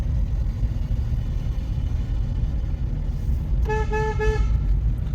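A car horn sounds in three short honks near the end, over steady road rumble and engine noise, on a hill road.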